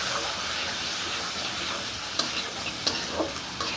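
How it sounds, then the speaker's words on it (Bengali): A ground spice paste of onion, chilli and turmeric fries for khichuri with a steady hissing sizzle, interrupted by a few sharp clicks of stirring near the end. "কিছুক্ষণ ভাজবো মশলাটাকে"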